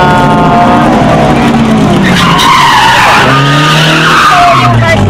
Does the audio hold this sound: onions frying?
no